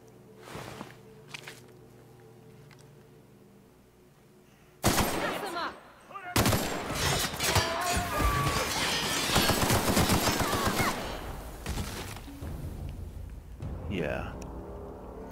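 Gunfire from a weapon in the video game The Outer Worlds crackles in rapid, dense bursts for several seconds, loud and close, with quieter scattered shots before it and a voice talking at moments.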